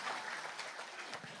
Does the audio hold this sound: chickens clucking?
no